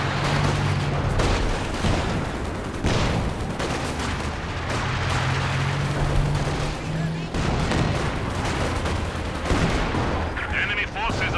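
MG34 machine gun firing in Company of Heroes 2, dense sustained bursts of gunfire mixed with distant explosions and battle noise, loud and continuous throughout.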